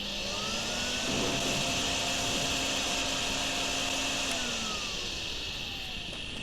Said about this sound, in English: let's just vacuum it up.